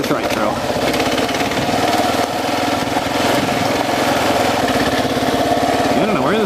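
A Kawasaki KLR 650 single-cylinder motorcycle running off-road on a trail in the Organ Mountains, its engine a close, steady chugging drone with a slight rev rise near the end.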